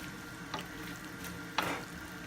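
Penne stirred into arrabbiata sauce in a pan, soft sizzling under a couple of scraping, sloshing stirs, quiet and close.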